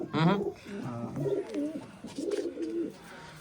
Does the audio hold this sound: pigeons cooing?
yes